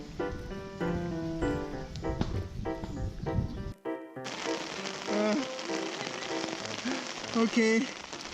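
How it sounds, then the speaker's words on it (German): Rain falls steadily during a bicycle tour along the EuroVelo route in France, with a continuous patter that cuts out briefly partway through, then returns louder and denser with scattered sharper drops. "Ja, es regnet."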